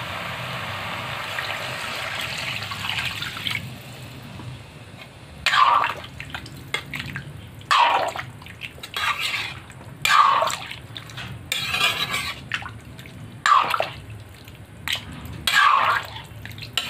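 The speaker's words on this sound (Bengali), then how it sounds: "কষানো হয়ে গেছে, এখন জল দিয়ে দেব।" Water poured into a potato and pointed gourd curry in a pan, a hissing sizzle giving way to a series of splashing pours and drips at irregular intervals, close and fairly loud.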